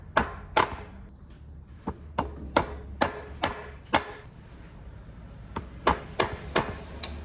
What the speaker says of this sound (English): You can always get a hammer on it and just give it a light tap, try and get it moving.